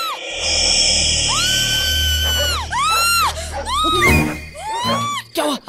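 A group of people scream in long, wavering cries, loud and close, with breaks between outbursts and a few sharp shrieks near the end, in a comedy film scene.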